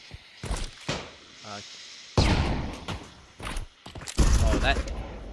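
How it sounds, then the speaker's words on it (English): A grenade in a Counter-Strike match detonates in heavy, booming bursts amid other in-game gunfire and thuds, with a caster talking over the action. "Oh, that was a good nade."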